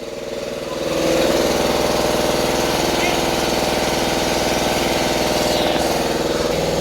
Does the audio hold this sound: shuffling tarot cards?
no